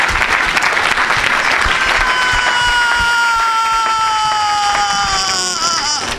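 A church congregation gives loud, continuous applause and cheers for Jesus Christ, a dense wall of clapping with a sustained high voice rising through it.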